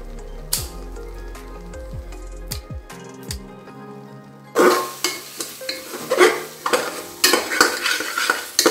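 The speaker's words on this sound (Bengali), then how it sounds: "এবার দিয়ে দিচ্ছি কাঁচা লঙ্কা।" Green chillies are dropped into a pan of rajma, kidney beans frying with spices, and stirred in. Light taps and scrapes are followed by a louder burst of sizzling and stirring scrapes close up. No one speaks.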